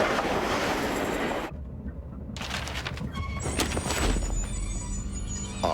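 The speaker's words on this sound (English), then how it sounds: "This train doesn't usually stop here." Train arriving at a station in the adventure game Blake and Mortimer: a loud rumbling rush that drops suddenly, then clattering wheels, squeals and hissing as it comes to a halt.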